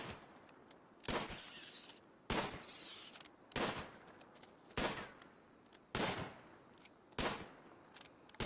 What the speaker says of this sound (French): Là, on entend les coups de feu jusqu'à l'autre bout du monde.